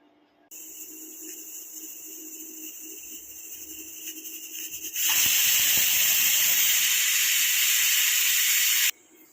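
A pressure cooker on a stove lets out one whistle: a steady hiss of escaping steam grows, then bursts into a loud, sustained shriek for about four seconds before cutting off abruptly.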